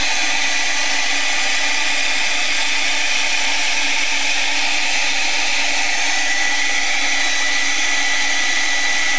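A hair dryer blows steadily and loudly over acrylic paint in a small art journal, a constant close-up whooshing roar that holds the same level throughout with no pauses.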